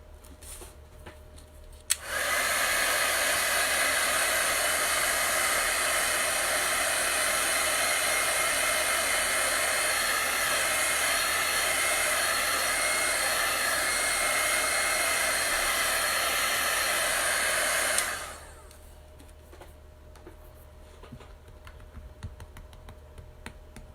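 A hair dryer or heat tool blows steadily on a decoupage transfer laid over a decorative book stack, a loud constant whoosh starting abruptly, holding for about sixteen seconds, then cutting off to quiet.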